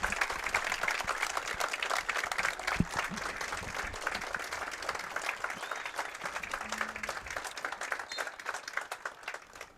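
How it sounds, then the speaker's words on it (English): A high school football crowd at Milton's Thompson Street field applauds at night, with dense, steady clapping and faint cheering heard from a distance for the whole stretch. "You can hear the Milton faithful tonight."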